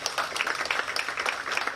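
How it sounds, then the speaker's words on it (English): Audience at a press launch for a TV medical series clapping, a brisk, even patter of many hands at moderate distance, heard alone without voices. "I think that we deserve an applause"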